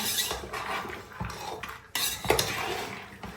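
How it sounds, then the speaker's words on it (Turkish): A spoon scrapes and clinks against a bowl while a lentil and meat köfte mixture is stirred, in uneven bursts of clatter with a brief pause midway. "Bunu da güzelce karıştırdığımıza göre"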